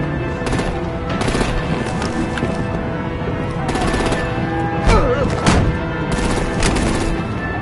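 Rapid gunfire and artillery in the video game Batman: The Enemy Within, sharp bursts of automatic shots repeating in clusters over a busy, noisy battle bed, fairly loud and close throughout.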